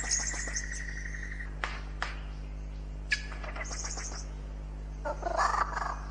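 A superb lyrebird in tropical forest mimics a kookaburra's call, a rising, cackling series of loud chirps and tonal bursts over a steady low hum, with no voices.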